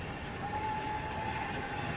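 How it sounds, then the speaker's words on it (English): A steady low hooting whistle from an LMS (London, Midland and Scottish Railway) steam locomotive, sustained and fairly distant, over a broad rumbling background. "that hooting sound, was very characteristic of the London, Midland and Scottish"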